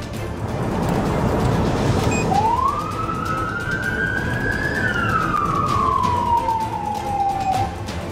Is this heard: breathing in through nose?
no